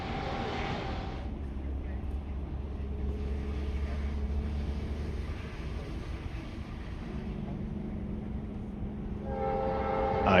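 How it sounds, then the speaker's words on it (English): A train rumbles past in the distance near the Panama Canal, a low steady roar with a horn sounding, fairly faint against outdoor ambience. "I can hear the morning train."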